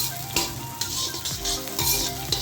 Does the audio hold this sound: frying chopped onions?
yes